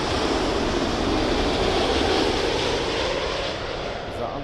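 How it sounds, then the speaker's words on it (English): A Thai Airways Boeing 777-300 arriving at London Heathrow on runway 27L after a flight from Bangkok gives off a loud, steady jet roar that holds broadband and unbroken throughout, easing only slightly near the end. "This is the Thai Airways 777-300 in from Bangkok."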